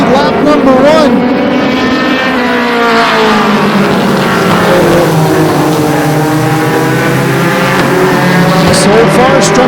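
Mini stock race cars roar around Flamboro Speedway in a close pack, loud engine drones rising and falling as they pass, with an announcer talking over the steady racing noise.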